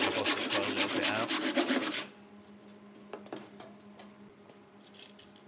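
A hand saw cuts skirting board in a mitre box, played sped up: a fast, even rasp of strokes for about two seconds, then quiet with a few faint knocks.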